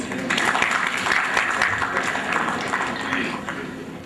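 An audience applauds at a 2005 coordination group conference held at the Avari Towers hotel, producing a full burst of clapping that swells and then gradually tapers off over a few seconds.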